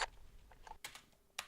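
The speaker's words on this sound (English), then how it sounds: "He's probably got some sort of belt with various weapons on it, and so that rattling sounds like this." Rattling of a warrior's belt hung with various weapons, a sound effect sample: a few short, bright metallic clattering bursts, the loudest at the start and two more near the end, fairly close and alone.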